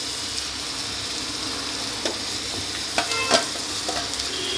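Drumstick stems fried in a pan with ground spice paste give a quiet, steady sizzle, broken by a few soft stirring scrapes and light clatters.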